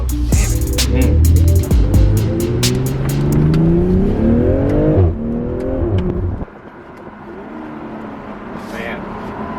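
A 2020 BMW M340i with all-wheel drive accelerates hard from inside the cabin, the engine note climbing through rising gear pulls with a shift pause, loud and close, before dropping to a quieter cruise; voices speak briefly in the car.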